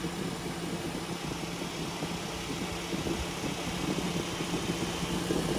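A 2014 Mitsubishi Outlander idles steadily with a low, even engine hum and a faint fan-like whir, continuous and fairly quiet.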